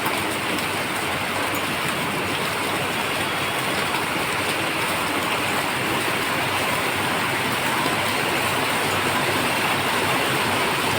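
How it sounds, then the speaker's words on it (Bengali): Heavy monsoon rain pours steadily in an outdoor residential setting, a dense, constant hiss with no breaks and no voices, occasionally swelling as bigger drops come down. "খুব জোরে আসছে মাঝে মাঝে বৃষ্টি"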